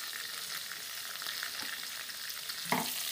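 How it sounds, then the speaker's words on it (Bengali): Small new potatoes frying in oil in a pan for a bamboo leaf chicken dish, a steady close sizzle with a couple of brief stirring clinks, no talking. "আলুটা প্রায় অনেকটাই ভাজা হয়ে গেছে"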